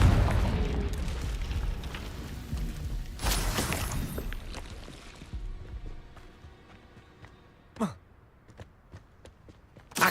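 A Confringo blasting spell explodes in Hogwarts Legacy amid busy combat noise, a broad booming burst mid-clip followed by scattered sharp impacts and fading rumble.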